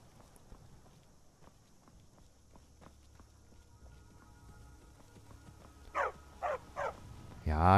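A dog in the video game Skyrim barks three times in quick succession, fairly close and loud, after a stretch of quiet footsteps and ambient game sound, then one more sharp bark right at the end.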